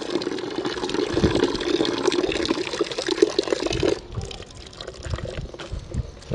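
Water pours over a car in a steady, rushing splash that runs for about four seconds and then stops abruptly. Softer trickles and drips follow close by.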